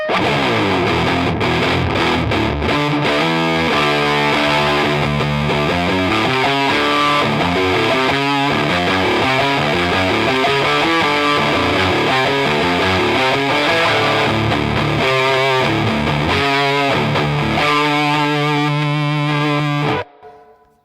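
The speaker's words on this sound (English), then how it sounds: "This is like that grungy distortion I've been missing." An electric guitar played through a Walrus Audio Eons fuzz pedal, thick grungy distorted riffs and sustained chords ringing loud and continuous, cutting off abruptly at the end.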